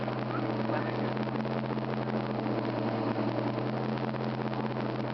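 A 2006 Dodge Charger R/T engine idles steadily through its exhaust, a loud, continuous low rumble with strong low harmonics and a broad hiss on top, holding constant throughout with no talk.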